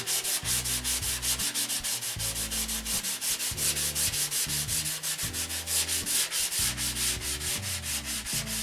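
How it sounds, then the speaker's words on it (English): Steady back-and-forth sanding on wood during finishing, a continuous rhythmic scraping with regular strokes, close and fairly loud, no voices. "Finishing 101 is sanding."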